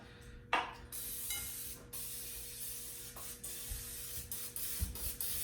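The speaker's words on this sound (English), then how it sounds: "We're gonna spray it down really well." A sharp burst of cooking spray into an 8x8 baking pan, then several steady hissing sprays in quick succession, close by and loud, with a faint hum underneath.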